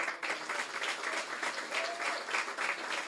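A crowd at a Law Enforcement Torch Run opening ceremony for Special Olympics applauds the parents of children with special needs, with sustained, dense clapping that continues steadily throughout.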